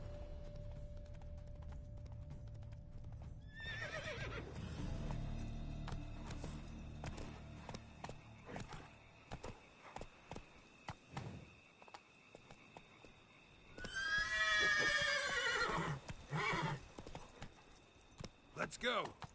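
Horse hooves clip-clop in a Witcher 3: Blood and Wine game scene, with a short whinny early on and a burst of galloping and movement later, heard under some in-game noise.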